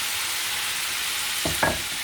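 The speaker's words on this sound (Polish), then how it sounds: "I teraz będziemy to smażyć, aż wszystko nam się ładnie zbrązowi." Beef with vegetables, pepper, salt, thyme and rosemary sizzles steadily in a frying pan, a loud continuous hiss with a brief scrape of stirring near the end.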